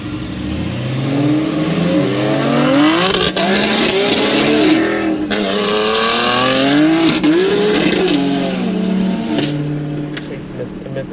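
A Dodge Hellcat revs hard and spools up during a race meet, its engine note climbing and falling in repeated loud sweeps with a high whine above it, continuous and close throughout.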